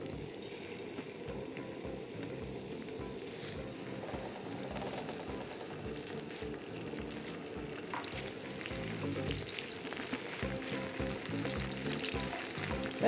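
Onions frying on a flat iron tawa for a kaleji dish: a continuous, even sizzle with bubbling crackle and gentle stirring throughout, moderately quiet and close, with no talking.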